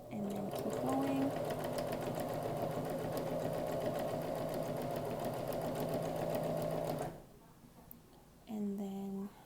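A sewing machine stitches a jingle dress in a long steady run, a close rapid mechanical whir that stops abruptly, followed by a quiet gap and a brief restart.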